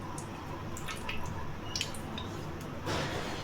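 Cooking oil poured into a pan on a stove, a faint, close trickle with scattered small drips and splashes over a low hiss.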